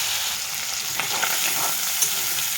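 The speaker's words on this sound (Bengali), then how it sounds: "একটু ভেজে নিচ্ছি।" Prawns sizzle in hot oil in a wok, a steady, close frying hiss with a few light crackles and stirring touches throughout.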